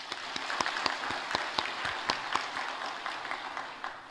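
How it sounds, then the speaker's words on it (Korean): A church congregation clapping during a worship service, a few distinct claps standing out over a softer spread of applause, moderately close. "하나님께 영광의 박수를 올리겠습니다"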